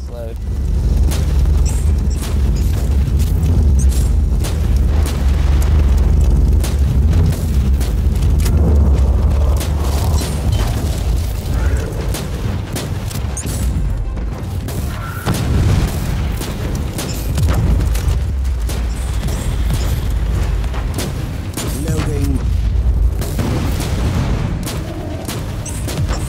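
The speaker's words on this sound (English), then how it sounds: "This thing has like explosive rounds that you can sometimes shoot" Explosive rounds firing and booming in the Warhammer 40k Inquisitor Martyr video game, with loud, dense bursts of gunfire and blasts that continue for the whole stretch among other game combat noise.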